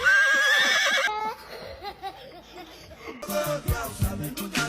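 A horse neighs and whinnies loudly for about a second, followed by quieter mixed sounds and a burst of louder noise near the end, used as a comedic sound effect.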